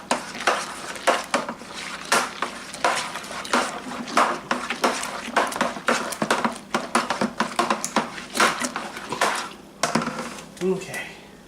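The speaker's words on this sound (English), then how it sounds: "Now we're gonna give this a good stir." Beer brewing extract from a Brewer's Best orange shandy kit stirred in a plastic bucket, with repeated scraping and knocking strokes in a steady rhythm, close and fairly loud, while a person talks over it.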